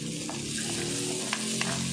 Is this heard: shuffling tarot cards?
no